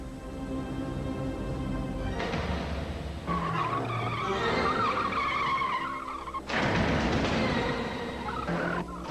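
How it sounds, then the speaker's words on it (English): Continental tires squeal and skid loudly as a stunt driver throws a car around under test conditions, long screeching bursts rising and falling over steady engine and road noise, with no talk. "Under test conditions, a stunt driver puts Continental tires through their paces."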